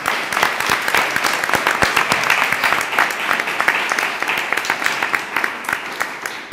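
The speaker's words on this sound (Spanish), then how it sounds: "Un aplauso." Applause from an audience at a wine photography award ceremony in Cascante, dense steady clapping from many hands that stays at an even, fairly loud level throughout.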